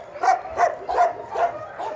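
A dog at an animal shelter barks five times in a quick, even rhythm, close and fairly loud, with no talking.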